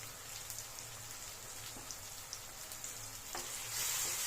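Green chillies fry with soft tomato masala in oil, giving a low, even sizzle with scattered light pops and faint stirring, the hiss growing slightly louder toward the end; no talking.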